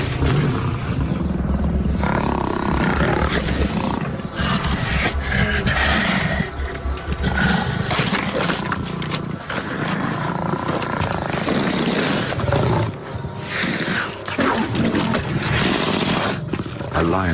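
Several lions snarl and roar as they fight over an antelope kill, a lioness grabbing the carcass while the others challenge her. The roaring stays loud, dense and continuous, with voice-over talk running over it.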